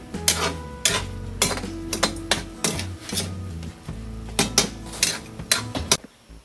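A spoon or ladle clanks against a metal cooking pot while adobo is stirred, making a series of loud, uneven metallic knocks and scrapes close by, with no talking.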